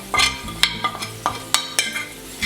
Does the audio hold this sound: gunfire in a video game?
no